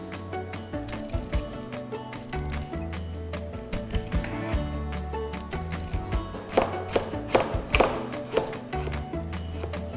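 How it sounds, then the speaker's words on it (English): A spoon scrapes the skin off fresh ginger in a series of close, irregular scratchy strokes, growing denser toward the end over a steady tonal hum in the background. "To peel the ginger, the best tool is a spoon."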